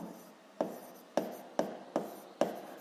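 Pen writing down a physics equation in a quiet room, soft scratchy strokes with five sharp taps spaced evenly, close and faint.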